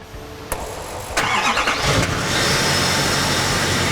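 A common rail diesel truck engine cranks briefly and catches after a fuel filter change, then settles into a loud, steady close-up idle.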